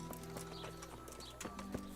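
A horse's hooves clip-clop in a few quick, sharp strikes in Kingdom Come: Deliverance, quiet and close over a soft background.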